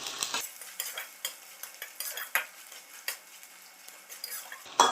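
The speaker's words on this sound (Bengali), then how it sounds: "এটা একটুখানি ভাজা হোক" Ginger paste fries in ghee for spinach, with a soft, faint sizzle broken by repeated spoon scrapes and light taps against the pan, with no voices.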